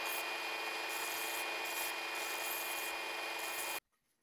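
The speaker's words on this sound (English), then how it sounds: "Taking off the burr to make it less lethal." Steady metal rasping as a file takes the burr off a bracelet made from screws, a continuous close scraping stroke that runs nearly four seconds and then stops abruptly.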